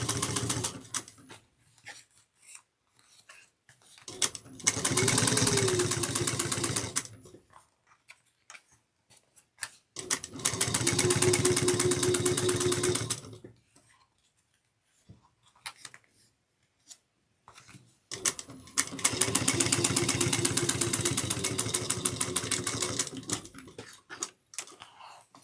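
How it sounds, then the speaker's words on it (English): A sewing machine back stitches a tote bag lining along zipper tape in three separate runs of steady rapid stitching, each lasting a few seconds, with quiet pauses between. "I'm going to start at the zipper tape and back stitch."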